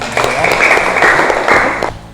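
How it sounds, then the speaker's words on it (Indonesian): A classroom of students claps for their classmates: a short, dense burst of hand clapping lasting about two seconds, with voices mixed in. "kita berikan tepuk tangan untuk kalian"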